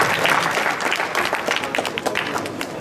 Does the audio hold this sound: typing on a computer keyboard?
no